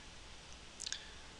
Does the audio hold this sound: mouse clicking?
yes